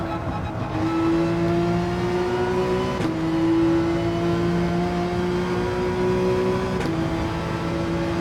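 A Porsche 911 GT3 race car in Gran Turismo 7 holds a steady, loud engine drone through a lap, with sharp gear shifts around three and seven seconds and no talk over it.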